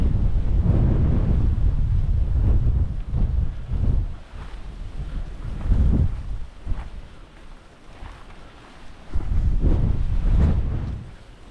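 Strong gusty wind on an open countryside ridge top buffets the microphone in heavy rumbling surges that rise and fall, loud and close, with no voices.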